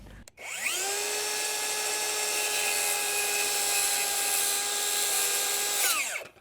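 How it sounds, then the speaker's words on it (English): A power saw slices a 45-degree notch into a wooden shed foundation timber, spinning up sharply, holding a loud steady whine for about five seconds, then winding down, close by with no talk. "I'm gonna slice a cut through here, and I'm gonna cut on a 45"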